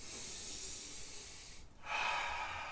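Deep breathing in a calm setting, a long breathy hiss of inhalation, a brief pause, then a fuller, louder exhalation, close and alone with no talk.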